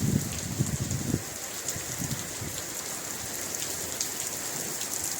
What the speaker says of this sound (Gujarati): મસ્ત મજાનો વરસાદ આવી રહ્યો છે.